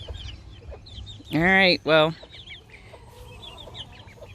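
Heritage-breed Delaware chickens give two loud, close clucking calls in quick succession, with fainter bird chirps scattered around them and a person speaking quietly nearby.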